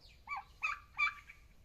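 Five young turkeys on a farm give three short, high, wavering calls in quick succession, close and fairly soft, alone without talk.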